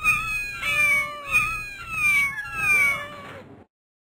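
Several young kittens meow in a series of high, wavering cries, about four overlapping calls close by, with no talking over them.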